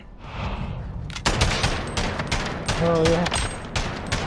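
Rapid bursts of gunfire in Call of Duty Modern Warfare on the Docks map, loud close shots fired in quick succession, with a brief spoken exclamation over the shooting.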